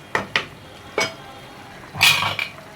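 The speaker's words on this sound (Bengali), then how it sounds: "সবজিটা ঢেকে দিচ্ছি" A lid is set onto a cooking pot of Chinese-style mixed vegetables with shrimp: a few sharp metallic clinks and knocks, then a longer clattering scrape near the end, close and alone over quiet background.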